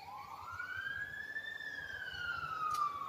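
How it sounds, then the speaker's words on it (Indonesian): An ambulance siren wails from Beluran, a single long rising-and-falling tone that is clear and fairly loud, carrying over faint background noise. "ada bunyi ambulan guys dari beluran"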